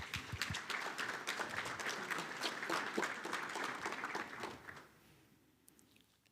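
Dense applause from a tech-conference audience during a talk about Shopware 6.7 caching: many overlapping claps for about five seconds, then fading quickly into near quiet.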